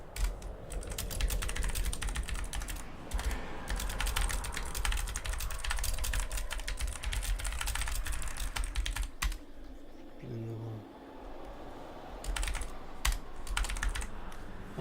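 Continuous rapid clacking of a computer keyboard during a Lord of the Rings Online game session, dense and close, with a short pause near the end before the typing resumes.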